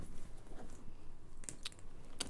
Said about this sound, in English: She's chewing my bag.